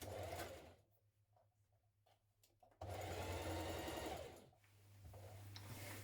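A sewing machine zigzag-stitches a T-shirt seam at a 1.5 cm allowance, running in two steady, close whirring bursts separated by a quieter pause, with no talking.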